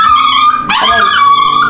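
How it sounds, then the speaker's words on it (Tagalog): A dog barks loudly nearby indoors in a home, one sharp bark cutting through steady background noise, with a high tonal whine running throughout. "Yung aso yan"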